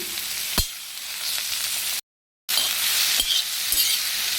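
Chopped tomatoes frying in hot oil for a paneer masala gravy, a steady close sizzle with a few sharp stirring clicks of a spoon against the pan, cut by a brief half-second gap before the sizzling resumes.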